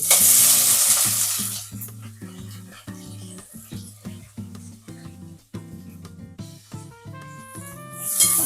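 Whole spices and onion frying in hot oil for chicken biryani hiss in a steady sizzle, with rhythmic stirring scrapes and clinks against the pan close by.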